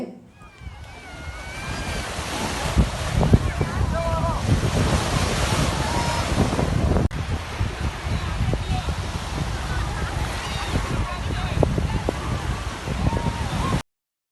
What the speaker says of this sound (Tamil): இந்த கடல் அலை ஓசை மணலோடு சேர்ந்து வரும்போது ஒரு இசையாக வர்றதுனால